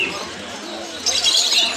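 Pigeons coo and call at a busy pigeon market, a steady bed of crowd noise and bird sounds with the calls growing louder and denser toward the end.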